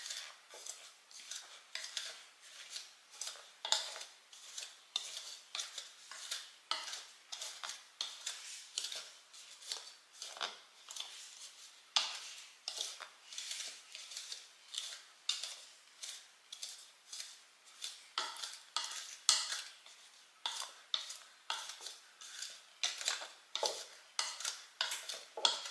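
Rhubarb torte dough being mixed into pea-sized crumbs, a quick run of dry, rhythmic scraping and clicking strokes in a bowl, close but soft, continuing steadily without speech.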